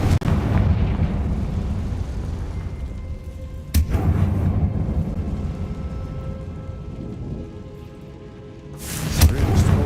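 Confringo blasting spells explode in Hogwarts Legacy: a sharp blast bursts out early, then rumbling debris and crackle linger, before a second louder explosion erupts near the end.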